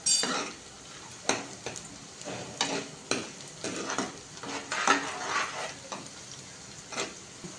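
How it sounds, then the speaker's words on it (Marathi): Onion and green chili for chole fry in a pan. Sharp spoon strokes scrape and knock against the metal about once a second over a steady close sizzle. No one talks. "आता त्याच्यात ना मिरची घालून थोडंसं परतून घेऊ परत 1-2 मिनिटं."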